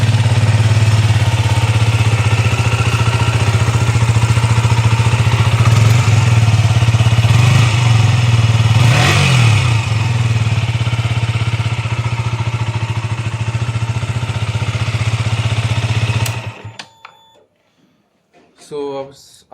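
A KTM Duke motorcycle engine idles loudly and steadily with a deep, even throb, then cuts off, leaving a few faint clicks and quiet sounds.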